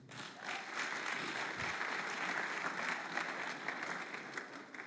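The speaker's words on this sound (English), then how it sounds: "Can we clap for them?" An audience at a personality-development class claps steadily, a moderately quiet but continuous spread of many hands that keeps an even level throughout.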